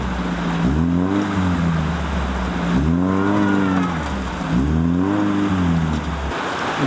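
Niva off-road car grinding through a river ford, its engine droning and rising in three strong surges of revving over a steady wash of rushing water, close and loud with no talk.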